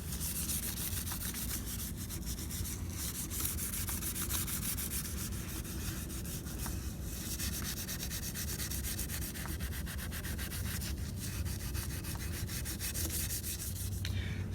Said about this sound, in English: So this mirror's really rusty, so I'm kind of restoring it with the Brillo pad.